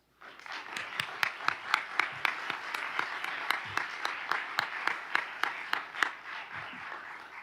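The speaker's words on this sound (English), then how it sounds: "I now invite the audience to give these four candidates an enthusiastic round of applause." Audience applause for four candidates at a 2021 county candidate forum in Rappahannock County, a steady round of clapping from a modest crowd with distinct individual claps standing out over the rest, fairly soft and continuous throughout.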